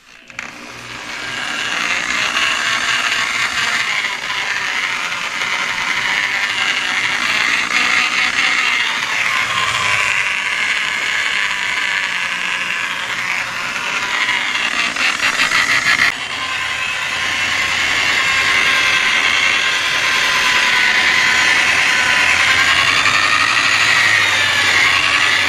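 Variable speed polisher buffing the fuel tank of a 1983 Yamaha IT 175 dirt bike, a loud, steady whirring drone close up that runs for the whole stretch, with slight shifts in pitch and one brief change partway through, and no talking.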